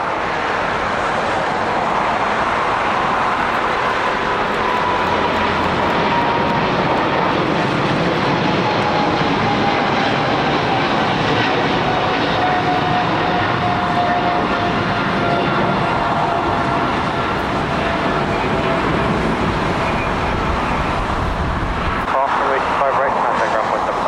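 An airliner lands on runway 25 left at LAX, heard from a park nearby as a loud, sustained engine roar with a slowly falling whine that fades toward the end.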